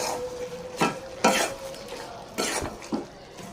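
A prawn curry sizzles in a pan while cumin powder is added and a spoon scrapes and stirs in several distinct bursts, with quieter frying between strokes.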